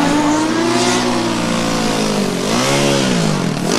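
A loud Formula Student race car engine revs continuously at high pitch during an autocross run, dipping briefly and climbing again as it accelerates past, close and dominant.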